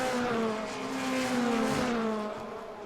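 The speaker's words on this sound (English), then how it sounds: "Formula Renault 2 liter, which is a Tatus chassis, the Sadev gearbox, and then of course normal aspirated 2 liter Clio engine" A Formula Renault 2.0 race car on a Tatuus chassis with a Sadev gearbox and a naturally aspirated 2-litre Clio engine sweeps past at race speed, its high engine whine swelling and then dropping in pitch as it moves away at moderate distance.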